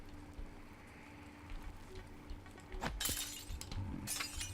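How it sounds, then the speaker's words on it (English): Glass smashing in the video game Prey: two sharp, bright shattering bursts close together, the second louder, over a low steady game hum. "Can't just smash through this glass"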